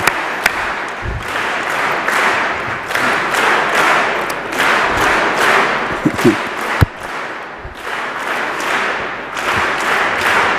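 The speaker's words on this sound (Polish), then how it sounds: "Wszystkie brawa dla Jezusa." A congregation applauds inside a cathedral at a thanksgiving Mass, with loud sustained clapping filling the space, a few sharper claps and thumps standing out, and brief crowd noise throughout.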